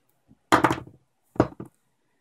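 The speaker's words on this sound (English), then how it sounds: "gonna take the cutters here and cut off that excess bit of wire" Wire cutters snip off an excess bit of wire on a micro FPV drone build, giving a few short, close clipping and clicking sounds in two quick bursts, with quiet in between.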